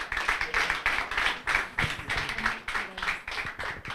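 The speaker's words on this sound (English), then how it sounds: "Please, let's clap for them." A small audience at a university moot court competition claps for the team in a rhythmic, fairly close patter of hand claps, with a few taps and murmurs mixed in.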